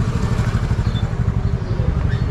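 A motorcycle engine idles close by while the bike is being parked, a steady low throbbing putter with a faint clatter and no talk.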